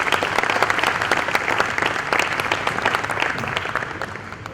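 An audience at a youth candidates' debate applauds, a dense, continuous clapping that holds steady and fairly loud before tapering slightly at the end.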